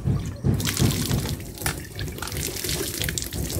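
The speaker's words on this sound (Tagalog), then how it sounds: "Magpumpa tayo ng tubig." A hand pump well in a rural yard gushes water in rhythmic surges with each stroke, splashing steadily and close for several seconds, no voices.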